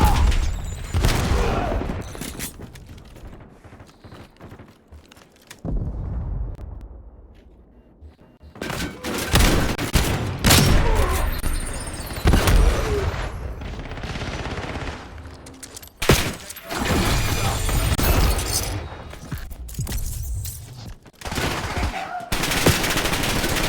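Heavy gunfire fills a Call of Duty Black Ops 7 match, including a shotgun, with dense repeated bursts and thudding shots nearly throughout, dropping briefly to a lull before the shooting resumes.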